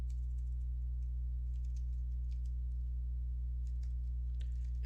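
Scattered light clicks of typing on a computer keyboard sit faintly over a constant low electrical hum, in short irregular bursts, with no speech.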